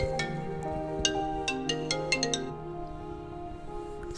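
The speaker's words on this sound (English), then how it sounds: "Sorry, that was my phone ringing." A mobile phone ringtone plays a short melodic chime pattern in a kitchen, bright plucked notes over a faint background, then fades out in the last second and a half.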